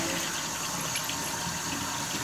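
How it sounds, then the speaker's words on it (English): Water runs steadily from a sampling tap at a city water treatment plant, a constant broadband rush with no pauses, fairly close and alone. "now we have to let our water run for 3 to 5 minutes"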